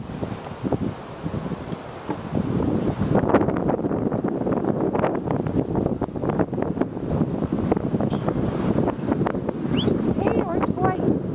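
Strong wind buffets the microphone in continuous gusts outdoors in snow, with rustling noise throughout and occasional voices mixed in.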